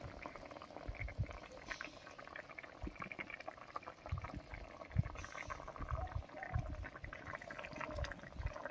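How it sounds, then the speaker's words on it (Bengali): Masoor dal with potol at a rolling boil in a pot, quiet irregular bubbling and low popping pulses throughout, close but faint, with no talk. "বলক উঠে গেছে"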